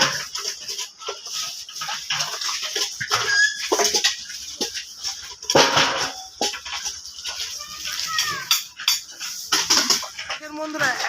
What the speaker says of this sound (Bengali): এই জায়গায় এক দিদিভাই কড়াই পরিষ্কার করছে